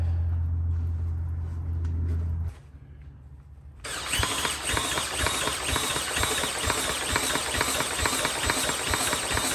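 A barn-find Briggs & Stratton small engine on choke cranks, then catches and runs loudly with a steady, rapid firing beat after a brief lull.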